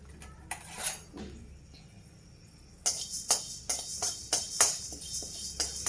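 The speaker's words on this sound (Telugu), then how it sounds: "దీంతో నేను ఒక 2 టేబుల్ స్పూన్ల ధనియాలు వేయించుకుంటాను" Coriander seeds dry roasting in a pan, heard as a run of sharp metallic clinks and scrapes from a spatula. After a quieter stretch the clinks come in a steady rhythm, close and moderately loud, with no talk.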